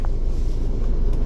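A Scania P310 truck engine idles loud and close, a steady low rumble that holds without a break.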